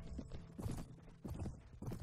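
Horse hooves clip-clop in uneven rhythmic bursts as a mounted charge rides in Mount and Blade: Warband with the A World of Ice and Fire mod, moderately loud with no voices.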